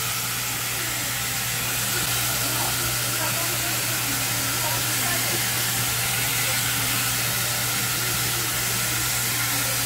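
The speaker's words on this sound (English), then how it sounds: "this is what activates it. A little airbrush bath." A Build-A-Bear airbrush bath sprays with a continuous, loud, even hiss for about ten seconds, close by and uninterrupted.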